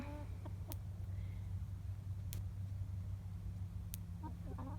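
Chickens in their winter setup on a farm, soft clucks and short calls scattered over a steady low hum, with a few sharp clicks, fairly faint and without talk.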